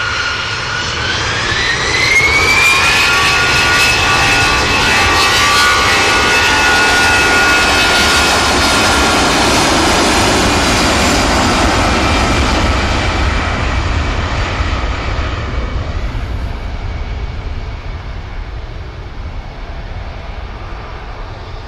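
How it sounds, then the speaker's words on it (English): EasyJet jet airliner takes off from Manchester Airport bound for Amsterdam Schiphol, a loud, close engine roar with a rising whine that swells, holds, then slowly fades into distance. "There goes the EasyJet to Amsterdam Schiphol."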